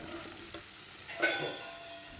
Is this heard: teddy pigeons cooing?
no